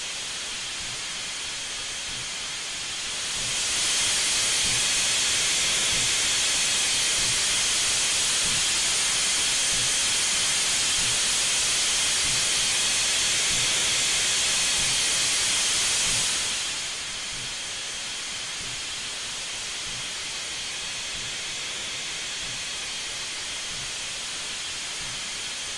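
A steam locomotive, an AT&N Consolidation #2 on the Raquette Lake Railway in Train Simulator 2015, lets out a loud, steady hiss of steam for about thirteen seconds, then falls back to a quieter background hiss.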